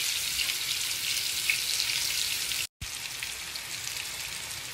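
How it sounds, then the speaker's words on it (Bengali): Sweet pumpkin slices frying in oil in a pan, a dense, steady crackling sizzle that drops out for a moment before resuming. "এক পিঠ সুন্দর করে ভাজা হয়ে গেছে, এখন আমি উল্টাই আরেক পিঠও ভেজে নিব ঠিকভাবে।"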